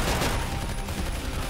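Rapid gunfire rattles loudly and continuously in Left 4 Dead 2 as players shoot the master crystal during a Crash Bandicoot custom campaign finale.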